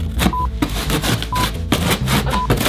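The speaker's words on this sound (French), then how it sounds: "T'as 10 secondes pour utiliser la scie." Rapid, rasping handsaw strokes grind back and forth continuously through stiff cardboard, loud and close, with rhythmic pulses of sawing.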